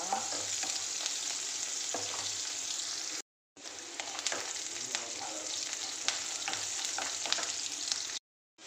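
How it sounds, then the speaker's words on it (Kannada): Onions fry in a pan for Andhra-style pappu sambar with a steady, close sizzle and occasional scraping stirs. The sizzle drops out briefly twice, and no one speaks. "ಈರುಳ್ಳಿ ಸ್ವಲ್ಪ ಗೋಲ್ಡನ್ ಕಲರ್ ಬರಬೇಕು, ಕೆಂಪಾಗಬೇಕು ಸ್ವಲ್ಪ."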